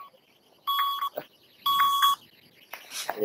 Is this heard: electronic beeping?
yes